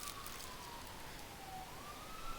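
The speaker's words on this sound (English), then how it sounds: "I hear sirens outside." A faint, distant siren wails in a slow rising and falling tone outside beneath a steady hiss of rain on wet roads.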